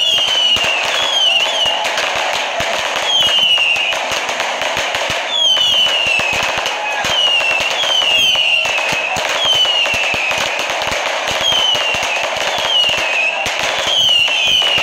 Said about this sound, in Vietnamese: Việt Nam bây giờ là toàn chơi pháo rồi.